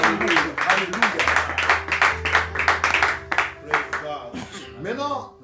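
A church congregation claps in praise of God, rhythmic hand claps in a quick, regular beat over sustained organ-like keyboard tones, with a voice speaking over the clapping.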